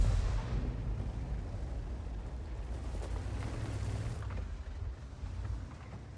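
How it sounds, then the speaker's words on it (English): A tank in World of Tanks fires high-explosive rounds, heard as a heavy, muffled rumbling boom that rolls on with dense low-end battle noise, distant and without clear separate shots. "he was firing the HE round there"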